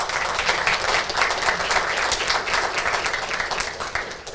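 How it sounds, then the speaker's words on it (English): A crowd at a refugee relief fundraising event claps steadily, a dense, continuous applause that holds at full strength for several seconds without voices over it. "So big applause to all the community that have donated and all of you that are here"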